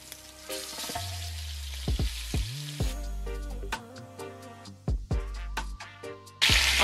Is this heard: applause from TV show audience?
no